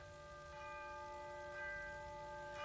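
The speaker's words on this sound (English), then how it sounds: "Chiming midnight." A clock bell chimes midnight in a quiet apartment building at night, a sustained ringing tone with overlapping strikes swelling faintly around one and a half seconds in, heard alone at low level.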